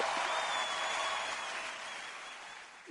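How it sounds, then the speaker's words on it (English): An audience claps for the presenters of a talk: a soft, dense patter of applause that slowly thins and fades over a few seconds. "Give a big clap for them"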